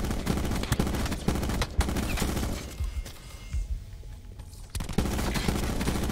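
A gun fires short rapid bursts in Black Ops 4 Free For All, loud close clusters of shots with a brief quieter gap before the firing resumes.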